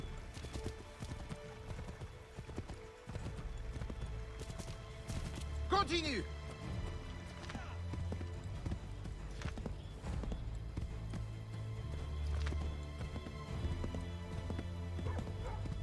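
A horse's hooves clop steadily along a road in Assassin's Creed 3, a quiet rhythmic trot under game music, with a voice briefly heard.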